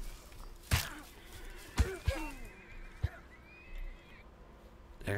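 A horse whinnies in the game SCUM amid several sharp thuds and clops, with a low background hum and sparse impacts spread across the moment.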